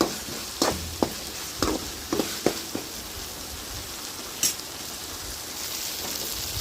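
Tomatoes sizzle steadily as they fry in a pan, with a constant hiss broken by sharp clicks and spoon scrapes in an irregular rhythm, close and fairly loud, with no voices.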